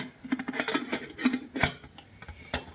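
A pressure cooker lid being closed over lentils and water, a quick run of close metallic clicks, clacks and scrapes as the lid is fitted and locked into place.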